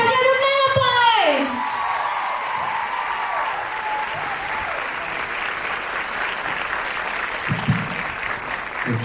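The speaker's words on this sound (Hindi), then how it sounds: "इवेंजलिस्ट रेवरेंड डॉक्टर अभिषेक रोजर्स को इनके लिए तालियां रुकने न पाए" A church congregation at a revival conference breaks into sustained applause, a dense wash of clapping from many hands that keeps going after a voice calls for it at the start.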